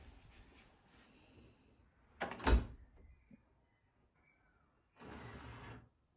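A motorized CEMO lock on a GEZE automatic door locking: a door closes with a short thud, then a clunk, and after a pause a steady whirring motor runs for about a second.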